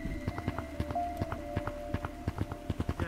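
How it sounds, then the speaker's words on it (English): Footsteps sound on the floor directly above in a multiplayer video game, a steady run of quick thudding steps with a hollow, knocking quality, moderately loud over a faint game hum and a brief tone. "I just heard footsteps right above me"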